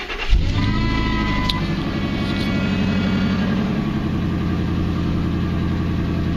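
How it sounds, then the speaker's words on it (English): A 2002 Ford F250 truck idles steadily close by, with a constant high whine from the power steering pump layered over the engine hum throughout, fairly loud and without speech. "You're probably going to hear a really loud whine from the power steering pump"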